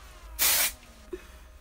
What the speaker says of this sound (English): I grab my hair and pull up, and I spray upward.